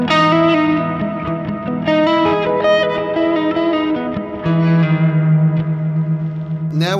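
Electric guitar played through a reverb effect on a Sonicake Matribox multi-effects unit, with pre-delay off and decay at maximum: sustained chords and single notes blur into long, broad, washing stereo tails that keep ringing under each new note.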